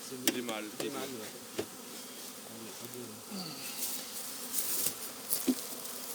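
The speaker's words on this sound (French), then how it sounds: "Et ça c'est des abeilles" Honeybees buzzing around an open hive during a mixed-flower honey harvest, a close, wavering insect drone with occasional taps and knocks, fairly quiet.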